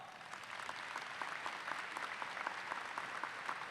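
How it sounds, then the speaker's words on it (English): A large crowd applauds at a university commencement ceremony, a continuous, even roar of clapping heard at a moderate distance, with no voices over it. "Let's give them one more round of applause."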